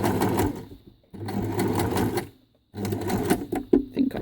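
A sewing machine stitching closed a gap in a scrap fabric rope flower, running in three steady, close bursts of rapid mechanical chatter with brief stops between them.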